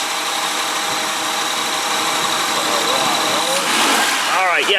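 Engine of a 2001 Honda Odyssey EX minivan, 3.5 liter V6, running steadily near the microphone with a loud, even hum that rises slightly toward the end.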